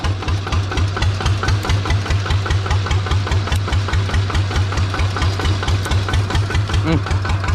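A motorcycle engine with its exhaust pipe fitted, running steadily after being started, a loud close pulsing idle with a regular throb under a busy outdoor background.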